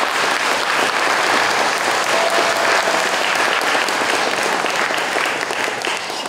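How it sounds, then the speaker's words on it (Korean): Dense, steady audience applause fills a Korean community association's Liberation Day ceremony, a continuous wash of many hands clapping at once, loud and unbroken for several seconds. "여러분 박수 한번 쳐줍시다"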